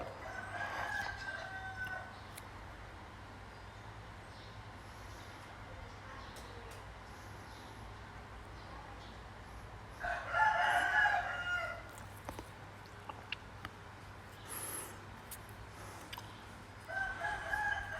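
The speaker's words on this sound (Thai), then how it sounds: "มีเสียงไก่ขันนะครับ" Rooster crowing in a few separate bursts, at the start, near the middle and again at the end, over a steady low hum and quiet background noise.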